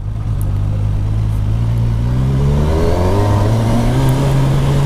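A Kawasaki Versys 1000 SE GT accelerates uphill in sport mode, its engine note rising steadily in pitch as it pulls, loud and close with a smooth, continuous drone and no voices.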